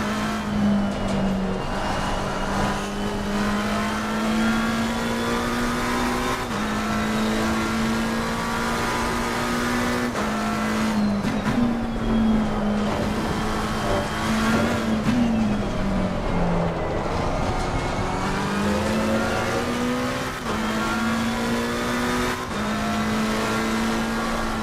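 A McLaren race car engine in Assetto Corsa Competizione at Suzuka drones loudly and continuously, its pitch climbing through each gear and dropping sharply at shifts, with repeated upshifts and a deeper dip as the car brakes for a corner.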